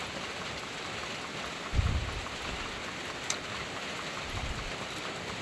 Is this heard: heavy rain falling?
yes